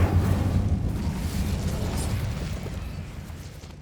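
A fire spell cast in the video game Hogwarts Legacy: a loud, whooshing burst that starts strong and gradually fades over a few seconds into a rumbling roar.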